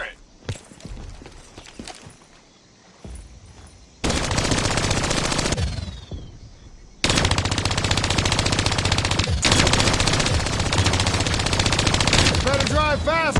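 Sustained turret machine-gun fire from a vehicle in the Call of Duty Black Ops 3 campaign, starting with scattered shots and then turning into long, loud, dense rapid bursts, with game dialogue heard in between.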